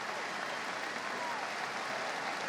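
A big stadium crowd at Carter-Finley Stadium during an NC State college football game gives a steady ovation, a dense wash of distant applause and cheering that holds evenly throughout.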